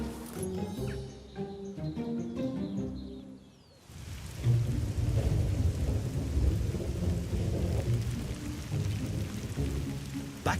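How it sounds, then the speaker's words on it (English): Heavy rain pours steadily at a French chateau with rumbling thunder, a dense, close downpour that takes over after a few seconds of other sound and continues without a break. "it's been raining for more than an hour"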